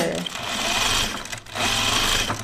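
A home sewing machine stitches pajama bottoms in a steady, close whirring run that dips briefly midway and then resumes.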